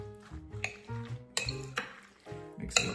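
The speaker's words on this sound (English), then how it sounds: "Let's get that stirred together." A spoon stirs stuffed zucchini filling with Italian seasoning in a metal pot, giving repeated clinks and scrapes in an uneven rhythm, close and fairly clear with no talking.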